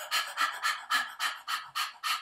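A person imitates a dog panting: eight quick, breathy huffs in a steady rhythm, close and fairly soft, with no talking.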